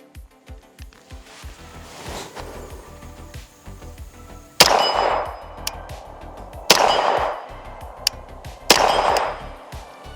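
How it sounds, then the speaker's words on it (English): A MAC 10 clone fires three separate sharp reports at a target from about 25 yards outdoors, each crack ringing out loud after a quieter stretch of ambient noise. "I'm going to put 3 rounds on the target"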